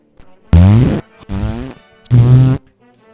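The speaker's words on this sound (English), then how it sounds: "It's just fart sound." Cartoon fart sound effects, three loud, buzzy blasts in quick succession, each about half a second long, with short gaps between them.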